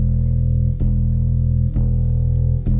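Sustained bass guitar notes ring out low and full, with a new note struck roughly every second in an even pulse.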